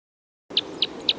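Lodgepole pine crossbill, type 5, giving three sharp metallic call notes at an even spacing, clear and fairly close against a quiet background.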